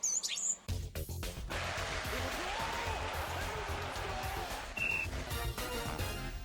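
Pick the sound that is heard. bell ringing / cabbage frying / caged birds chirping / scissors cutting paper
caged birds chirping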